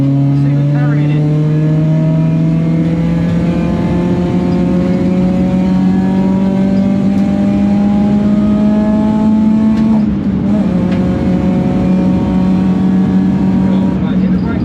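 A rented race car's engine howls steadily and loud on a track, pitch climbing through gears with a shift near the middle, continuous and close, with instructions spoken over it.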